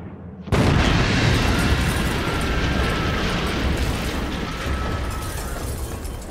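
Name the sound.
flying bombs exploding on the ground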